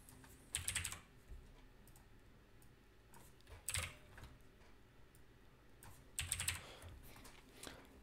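Code is typed on a computer keyboard in quiet, soft bursts of key clicks, with short pauses between the runs of keystrokes.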